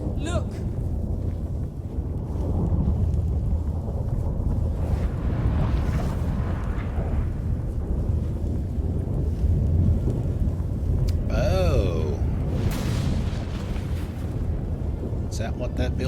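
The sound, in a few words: storm thunder in video game The Witcher 3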